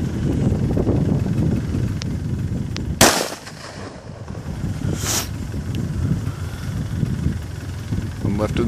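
Two sharp rifle shots from an M&P10 fired outdoors at a range, the first at three seconds and a second about two seconds later, loud and close over steady wind noise on the microphone, with people talking around them.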